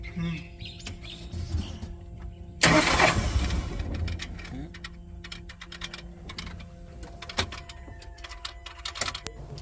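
A Tata Ace Gold BS6 pickup with a starting problem, high soot mass and an EGR and throttle fault cranks in a sudden loud burst. It settles into a rough, uneven idle with sharp ticking and clicking sounds close by.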